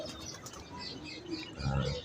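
A high flyer pigeon on a champion pigeon-keeping rooftop in Lahore gives a soft, low cooing that swells near the end, with faint chirps and light flutter in the background.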